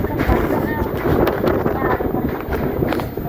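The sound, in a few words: wind blowing into the microphone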